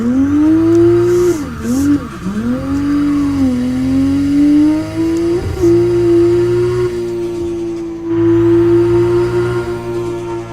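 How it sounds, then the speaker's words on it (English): A drifting car in a snowy video game roars with a loud sustained engine drone that dips and rises, broken by brief turbo blow-off hisses and short tyre squeals, continuous and close throughout. "That blow-off valve is crazy."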